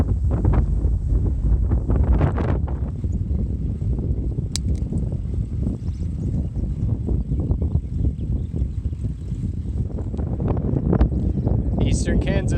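Strong headwind buffeting a microphone while cycling across eastern Kansas, a loud continuous low roar with gusty rumbles, and a voice speaking through part of it.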